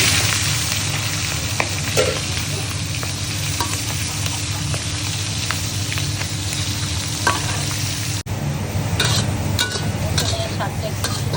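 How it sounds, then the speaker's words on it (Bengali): Shrimp coated in turmeric and salt frying in hot oil, a loud continuous sizzle and crackle with occasional clinks of a utensil against the pan throughout. "একদম গরম তেলে ভেজে নেব"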